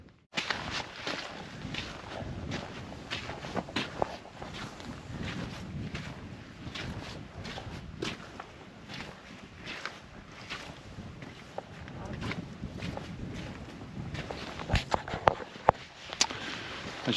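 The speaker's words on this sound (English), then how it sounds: "I'll be glad to get out of this wind" Cold wind gusting across a microphone on a Black Mountains hike, a constant rushing roar with buffeting bursts and occasional knocks, close and loud throughout.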